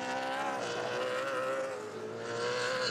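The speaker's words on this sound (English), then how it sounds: "The sound of 830, 840 horsepower in the Trans Am Series" Trans Am Series race cars of about 830 to 840 horsepower roar around Road Atlanta, a loud sustained engine howl that dips briefly and climbs again as the field passes.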